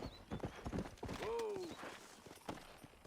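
A horse in the Red Dead Redemption video game clops a few hoofbeats, and a short, clear whinny rises and falls in the middle.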